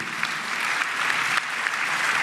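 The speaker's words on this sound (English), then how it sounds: "Give Michael a round of applause in the council for College Grove." Steady applause from a crowd at a county State of the County address in DeKalb, a dense, even wash of many clapping hands with no talk over it.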